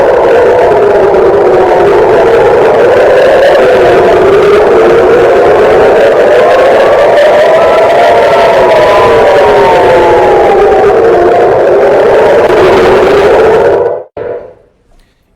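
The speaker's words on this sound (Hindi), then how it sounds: "सायरन बज रहे हैं।" A loud air-raid siren in Tel Aviv wails during missile attacks, its pitch slowly rising and falling in long sweeps, then cuts off abruptly near the end.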